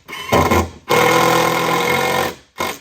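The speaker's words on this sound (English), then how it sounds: "You're watching the last of the screws for the floor go in" A power drill drives the last screws into the floor of a historic Nantucket Central Railway birdcage car, a loud steady motor whir lasting over a second, preceded by a short burst and followed by another brief start.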